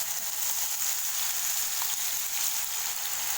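Ground ginger, garlic and onion paste sizzles in hot oil with cumin while an egg masala curry is cooked, a steady, dense frying hiss that holds at an even level throughout, with no voices.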